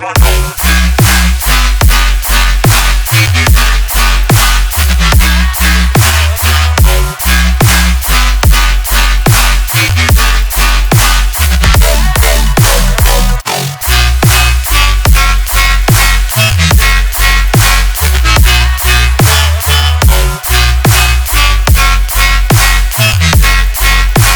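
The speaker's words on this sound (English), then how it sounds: "synthesize a very harmonic multi-purpose dubstep wobble" A harmonic dubstep wobble bass synthesized in Serum pumps in a loud, continuous rhythmic pattern over a driving beat, with heavy low-end throbs and bright, buzzing overtones that repeat throughout.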